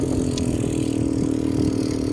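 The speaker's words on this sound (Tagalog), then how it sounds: "Nakasakay ka dito sa Land Cruiser" A Toyota Land Cruiser engine drones during a desert safari ride in Dubai, a steady mid-pitched hum with a constant tone and no speech over it.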